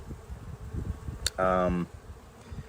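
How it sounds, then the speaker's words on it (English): A honeybee buzzes on a crowded hive frame held by a beekeeper: one short, close, droning buzz rises for half a second over quiet background rustle, just after a brief spoken word. "There's a lot of bees on this one."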